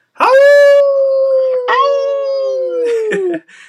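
A loud, close wolf howl sound effect: one long sustained wail that dips, restarts and slowly falls in pitch before fading out.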